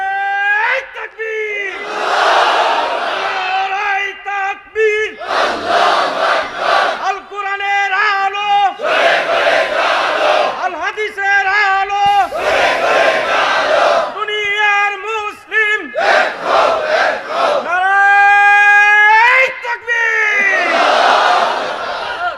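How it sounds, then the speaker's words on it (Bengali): A large crowd at a religious gathering shouts takbir in loud, repeated rhythmic bursts, alternating with a leader's calls, the massed voices swelling and echoing across the open ground. "তাকবীর দেয়া যাবে? জোরে না আসতে?"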